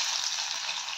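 Meat frying in oil on a small stove, a steady bright sizzle with no voices over it.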